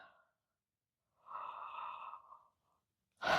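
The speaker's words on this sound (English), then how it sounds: "we're going to fake a yawn" A person gives a breathy, drawn-out fake yawn during a vocal exercise after a short quiet pause, followed by the start of another breath or sound at the end.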